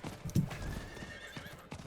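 Horse mount in Diablo 4 clip-clops along and lets out a neigh, hooves thudding at a steady pace under a faint game soundscape.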